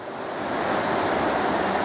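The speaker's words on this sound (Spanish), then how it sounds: "Aquí tenemos el río" A river flows in a steady, loud rush of broadband water noise that builds slightly at the start and then holds constant, close to the microphone, with no voices.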